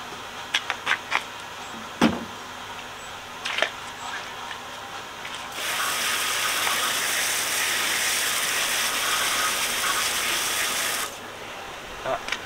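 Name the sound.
water rinsing a car wheel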